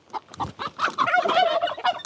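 A chicken clucks in a quick run of short calls, close and fairly loud, rising into a longer drawn-out cluck at the end, in an abandoned village in Japan.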